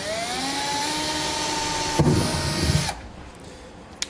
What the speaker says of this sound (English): we'll drill our pilot hole